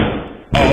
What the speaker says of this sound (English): this was actually the first door he kicked in